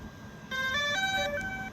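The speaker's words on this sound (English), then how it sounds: "Press it once, press it again, fires up, makes a cool noise." A DJI Phantom 4 drone plays its electronic startup tune, a short run of clear stepped beeping tones at moderate volume over a faint background hum.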